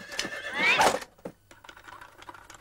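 A cartoon horse gives one loud, wavering whinny that rises and falls, followed by a few quieter snorts and soft rustling against faint background hum.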